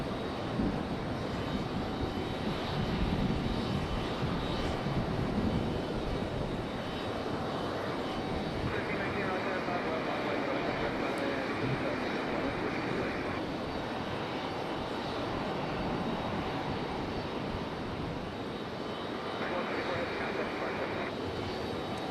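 Airliners departing Raleigh Durham International Airport roar continuously with jet engine noise, a broad sustained rumble and hiss heard from a distance that holds steady across the whole stretch, with no voices.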